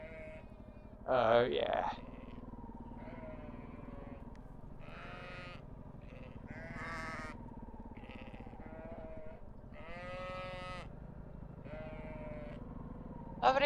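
Sheep being walked along a Portuguese country track bleat repeatedly, several short calls scattered throughout at moderate distance, with people talking quietly in between.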